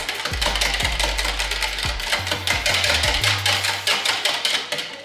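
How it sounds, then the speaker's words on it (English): Yeast and olive oil are whisked in a bowl, making quick rhythmic clicks and taps against the sides, close and fairly loud, over a low tonal hum. "I will whisk this"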